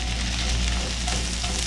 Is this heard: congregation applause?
no